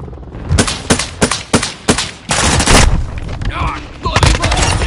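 Bursts of automatic gunfire in Call of Duty MW2 multiplayer, several sharp volleys in quick succession followed by a longer sustained burst, loud and close, with a voice briefly heard between shots.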